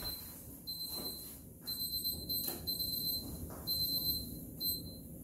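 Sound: brewing mash timer going off

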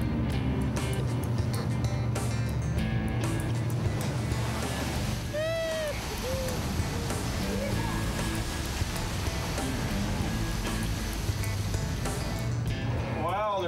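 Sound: high ocean waves

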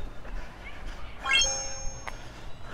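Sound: Eufy video doorbell notification ding

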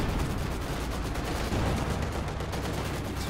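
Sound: artillery barrage gunfire in a video game

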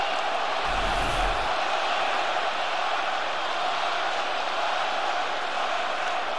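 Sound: arena crowd chanting Rondo's name

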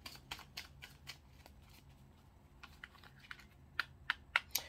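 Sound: shuffling tarot cards

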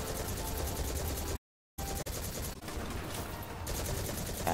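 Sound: gunfire from Destiny 2 video game

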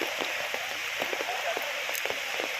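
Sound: heavy rain falling

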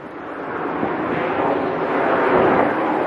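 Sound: wind blowing in cold London street

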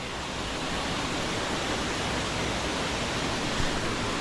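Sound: large waterfall

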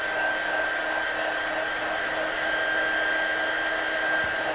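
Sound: heat gun drying watercolour ink on stamped florals

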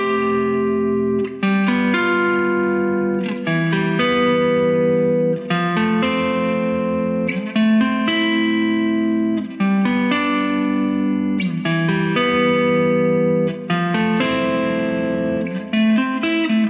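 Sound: electric guitar, plexi-style amp, neck pickup

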